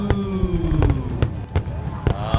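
Consumer fireworks launched in quick succession during a backyard firework demo, sharp crackling bangs and pops arriving at irregular intervals over a steady rumbling hiss, with a whistling tone sliding downward, loud and close.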